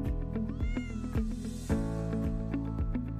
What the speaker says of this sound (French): S'il vous attend, miaulant avec enthousiasme, se faufilant entre vos jambes